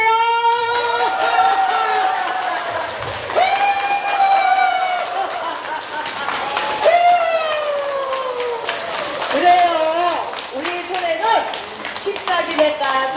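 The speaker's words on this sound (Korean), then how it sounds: "다시 한번 부평지구에 우리 어머니가 박수 소리 들어볼게요." An elderly audience at a laughter exercise class claps loudly and steadily, the clapping running throughout while an instructor's voice speaks and calls out over it with rising, animated pitch.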